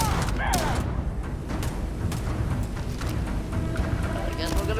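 Enemy gunfire in the sci-fi game Starfield cracks in rapid bursts and booms over loud game ambience, while a player talks over the shooting.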